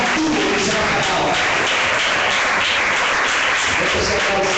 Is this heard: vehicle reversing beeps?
no